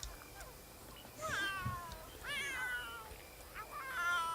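A cat in The Sims 3 yowls three times in a row, each drawn-out, wavering meow rising and falling, fairly close and clear over a low game background hum.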